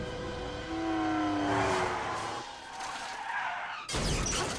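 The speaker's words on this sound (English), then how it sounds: "It's a pretty spectacular car crash." A car skids with squealing tires and crashes in a chase scene from the James Bond film Casino Royale, a loud, drawn-out skid ending in a sharp burst of impact and shattering debris.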